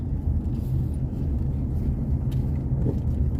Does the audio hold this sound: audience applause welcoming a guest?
no